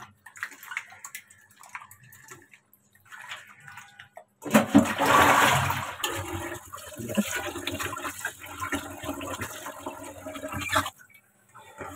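Running tap water rinses cleaned pabda fish with a light sprinkle of salt, starting as a steady loud gush midway through after a quieter opening of faint handling, then continuing fairly evenly until it cuts off near the end.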